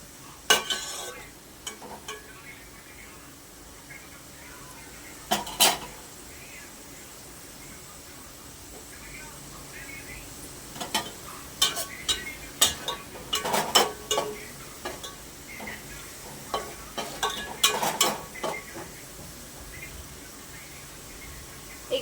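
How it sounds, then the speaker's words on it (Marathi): Onions frying in oil for a home-style veg biryani, stirred with a spoon: soft background sizzle under scattered scraping and clinking bursts, busiest in the second half, without talk. "एक ते दोन मिनटं तेलामध्ये फ्राय करून घेऊयात थोडासा"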